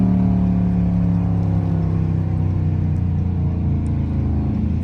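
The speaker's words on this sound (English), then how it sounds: "as we slow down, we're gonna downshift to third gear" A car engine with paddle-shift gearbox slowing and downshifting, a loud close steady engine hum and rumble from inside the cabin without sharp revving changes.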